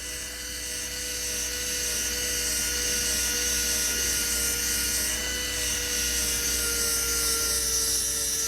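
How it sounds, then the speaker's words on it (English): An electric drill bores a hole through a block of wood, giving a steady, loud, high-pitched whine that holds constant throughout with no talking. "So, we have our first hole drilled."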